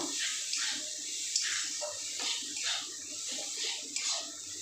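Water pours steadily into a cooking pot holding spiced vegetarian moong dal with ridge gourd, a continuous close splashing and trickling with no speech.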